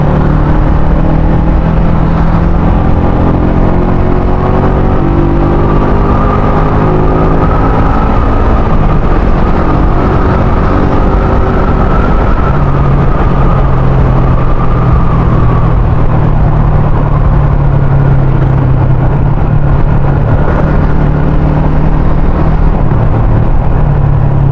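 A Yamaha Sniper 150 motorcycle engine fitted with a 32mm UMA throttle body revs loudly and close up. The continuous buzzing drone rises and falls in pitch as the revs climb and settle, with no break throughout.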